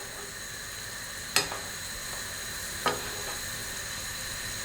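Seafood sizzling in a pan while being basted, a steady bright frying hiss with two sharp spoon clinks against the pan, close and alone.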